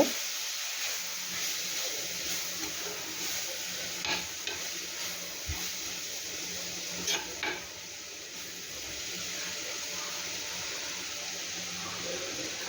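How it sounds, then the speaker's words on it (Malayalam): Chopped spinach is stirred into a hot mixture in a frying pan, a quiet steady sizzle under soft scraping and occasional clicks of the spoon against the pan. "ചീരയും കൂടി ഇട്ട് കൊടുക്കാം എല്ലാം കൂടി നന്നായിട്ട് ഒന്ന് മിക്സ് ചെയ്യുക"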